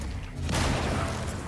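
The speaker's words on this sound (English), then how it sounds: "Hear gunfire." Gunfire in the video game Fortnite, a brief dense burst of shots that flares up suddenly and trails into a sustained noisy wash, with no talking.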